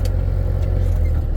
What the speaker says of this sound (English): Just as a whole bunch of trucks come past